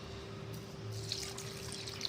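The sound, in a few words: water poured into mixer jar with rice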